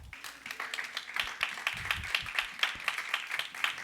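A church congregation claps along in steady rhythm during a sermon, the clapping continuous and fairly close, with no talking over it.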